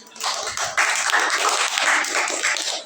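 A class claps together after a group's presentation, a short burst of dense applause that swells quickly and holds for a few seconds before fading, with a little background chatter.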